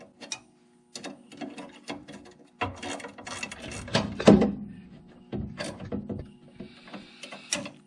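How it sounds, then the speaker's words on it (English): A 7/16 ratcheting wrench tightens orifices on a garage furnace being converted to propane, giving short bursts of close clicking and metallic handling noises with brief pauses between strokes. "I'm just using a 7/16 ratcheting wrench for it"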